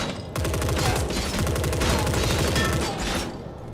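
A Kriss submachine gun firing a sustained automatic burst in The Forever Winter video game, rapid evenly spaced loud cracks running for about three seconds, close and alone.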